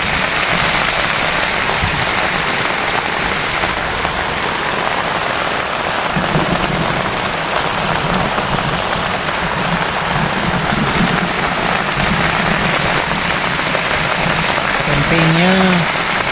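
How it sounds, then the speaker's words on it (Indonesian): Heavy rain pounds on a camping tent at night during a thunderstorm on a fishing camp at Cirata reservoir, a loud, dense, unbroken hiss of drops throughout. "di luar hujan besar guys"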